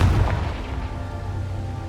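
A Confringo blasting spell explodes in the video game Hogwarts Legacy, giving a deep booming burst at the start followed by a rumbling low tail that holds steady for the rest of the moment.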